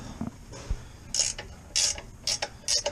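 Ratchet clicking in several short bursts while bolts are undone on a 2017 Ford F150 during a 2.5 inch lift kit install, each burst a quick run of metallic clicks with brief pauses between.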